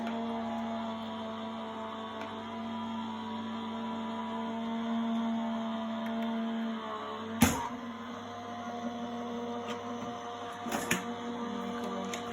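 Die-cutting machine feeding a card through on a craft table, a quiet steady mechanical whir with a couple of sharp clicks and clunks near the end.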